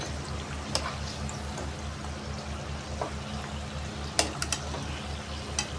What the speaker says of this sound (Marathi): समोसे छान ब्राऊन रंग होईपर्यंत असे आपण तळून घेणार आहे तेलावर.